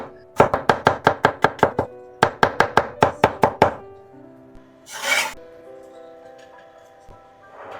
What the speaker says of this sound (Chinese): 再來2瓣蒜，先把蒜拍碎，然後切碎。